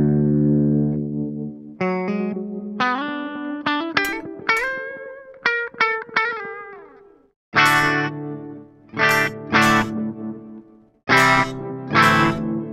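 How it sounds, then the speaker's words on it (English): Guitar played through a Walrus Audio Fable pedal set to a forward delay feeding an octave-up granular effect: sustained notes with shimmering harmonics and repeats, then sharp separate chords that ring and decay, loud and alone. "It's a forward delay, so you're just a regular delay, into an octave up granular."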